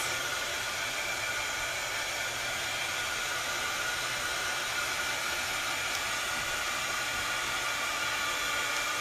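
A hair dryer blows steadily on a mixed media paper layout background, a constant loud whooshing hiss that runs unbroken for the whole stretch with no talk.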